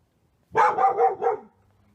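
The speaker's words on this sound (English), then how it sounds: "Howie, it is hard for me to hear myself talk when you are barking that loud" A dog named Howie barks loudly and close by, four quick barks in a tight burst lasting about a second, with silence before and after.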